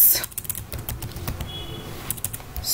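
Fast, close-up clacking on a computer keyboard while PHP code is typed, a dense patter of keystrokes mixed with someone speaking.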